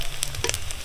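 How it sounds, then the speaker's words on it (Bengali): Leftover-rice pakoras frying in hot oil give a soft continuous sizzle with a few brief crackles and pops in under a second, close and moderately loud. "তো আমাদের পকোড়া ভাজা চলছে"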